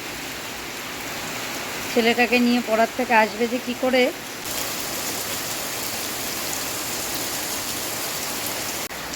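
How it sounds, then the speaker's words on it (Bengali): Heavy rain pours down steadily as a loud, dense hiss that fills the whole scene from start to finish; someone speaks briefly near the beginning over the downpour. "পুরো জোরে বৃষ্টি শুরু হয়েছে"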